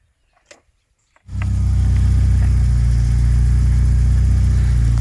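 A BMW 318is E36 engine idling after a few faint clicks, then settling into a loud, steady, close-up rumble that runs to the end without cutting out.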